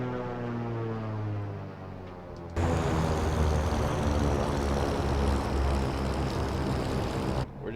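Cessna 414AW Chancellor twin piston engines in the flight simulator give a steady propeller drone, then jump suddenly to a louder, fuller roar that holds to the end.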